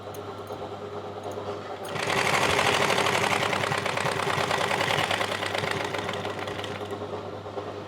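An electric sewing machine stitches ladies' pants, starting after a quiet moment with a close, rapid, steady mechanical whirr and clatter that runs on to the end.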